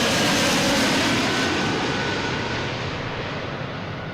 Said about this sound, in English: JetBlue coming from San Francisco.